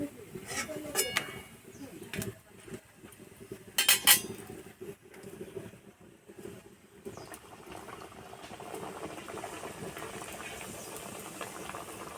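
Oil bubbles and hisses steadily as nimki deep-fries, with clinking utensils and scattered clatter early on, then a settled sizzle.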